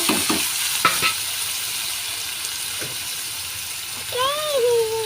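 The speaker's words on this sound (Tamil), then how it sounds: "நல்லா வதக்கணும்." Tomatoes and onions sautéing in a little oil in a kadai, a continuous close sizzle with stirring scrapes and knocks, and a brief high-pitched voice rising near the end.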